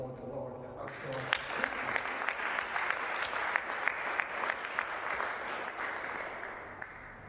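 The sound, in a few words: applause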